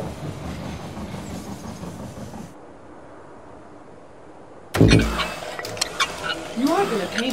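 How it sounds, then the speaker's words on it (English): A train pulls into a station in the They Are Billions strategy game, a rumbling rail sound that cuts out briefly before a loud clanking arrival with rattling and clattering mechanical noises up close. "The train has arrived at the station."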